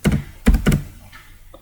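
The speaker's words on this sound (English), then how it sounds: "so I'm going to type this in lowercase." Computer keyboard keystrokes typing names into an Excel spreadsheet, with two quick clusters of close, crisp clicks followed by a few fainter, scattered taps.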